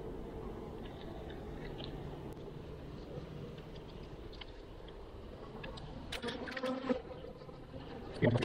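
Honey bees buzz as a dense, steady low drone during an opened-hive inspection, quiet and continuous, with a few louder knocks and rustles near the end.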